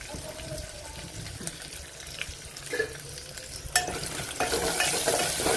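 Oil frying in a pan for jeera rice, a steady sizzle with occasional stirring scrapes, growing louder and brighter toward the end, with wind in the background and no talk.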